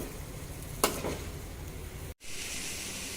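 Chopped ivy gourd (dondakaya) pieces being stirred in a pan, a soft steady frying sizzle with a single scraping clatter early on and a brief cut before the sizzle resumes.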